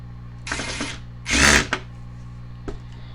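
A power drill whirs in short bursts while a flat screen TV is taken apart: one medium burst, a louder longer one with a quick follow-up, then a brief faint blip.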